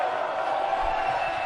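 A basketball arena crowd jeers after a missed floater air ball, a broad, sustained wash of voices heard at a distance, steady and loud for the whole stretch.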